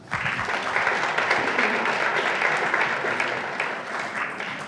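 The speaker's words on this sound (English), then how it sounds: "Another big round of applause for Nora Khan." Applause from a conference audience after a talk, a dense sustained clapping that starts abruptly, stays loud and even for several seconds and begins to thin toward the end.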